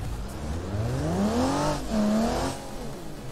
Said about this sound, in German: Motor läuft trocken, lassen wir ihn doch mal absaufen.